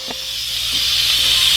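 Steam hisses steadily and loudly from the pressure release of an Instant Pot Ultra 6-quart pressure cooker, a continuous bright rushing hiss that slowly swells over under two seconds.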